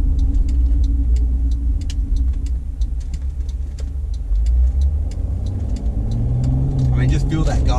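A Mercedes diesel car with a freshly cleared DPF fault accelerates on the road, a deep rumbling engine note that builds and rises in pitch toward the end, heard from inside the cabin with speech over it.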